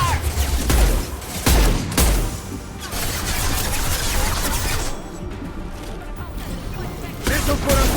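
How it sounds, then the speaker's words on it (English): Gunfire in Mass Effect 2 during a heavy combat scene: repeated bursts and impacts with low booms run through the whole stretch, mixed with other battle noise and a voice talking over it. "Heavy fire!"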